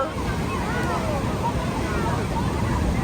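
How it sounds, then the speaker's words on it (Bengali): Ocean waves roll and wash in a continuous loud surge with wind buffeting the microphone, while faint voices murmur in the background. "ঢেউ প্রচুর।"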